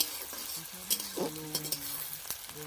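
Onions and chilli frying in a pot over an outdoor wood fire at night, a soft sizzle broken by scattered clinks and sharp scrapes from stirring, with faint background tones.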